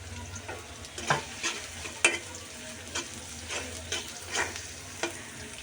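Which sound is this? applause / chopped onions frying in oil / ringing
chopped onions frying in oil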